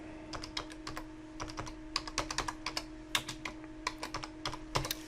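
A folder name is typed on a computer keyboard in quick, uneven bursts of close, crisp keystrokes over a faint steady electrical hum, with no talking.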